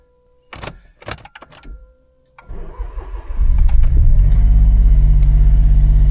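A car engine is cranked after a few clicks and handling noises. It catches and settles into a loud, steady idle close by, with no talking over it.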